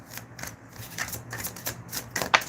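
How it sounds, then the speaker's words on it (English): Tarot cards being shuffled by hand in a quiet room, a run of soft riffling and flicking sounds with one sharper snap near the end. "Hold on, I just gotta shuffle."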